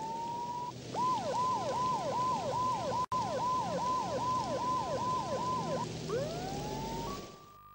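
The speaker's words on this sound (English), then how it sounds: "must have heard the sirens too." A wailing siren sweeps up and down in rapid, regular cycles, loud and nearby, then shifts to a different tone near the end.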